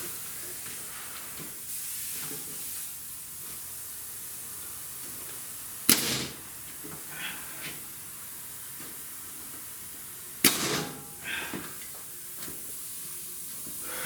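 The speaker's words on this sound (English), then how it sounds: "First nail in my brand new Milwaukee nail gun are going to be driven the right way" A brand new Milwaukee nail gun drives two nails into a wall to hang a picture, each a sharp, loud pneumatic crack with a hissing burst, a few seconds apart, over a quiet room.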